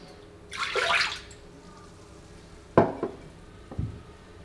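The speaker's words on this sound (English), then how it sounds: "So we put all wet ingredients into it. Our milk," Milk pours into a stand mixer bowl in a short liquid splash, followed by a couple of clunks and a faint knock from the bowl and containers nearby.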